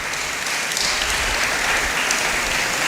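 Dense, loud applause from an audience at a scientific event fills the room as people clap for an internship team, a continuous crowd patter.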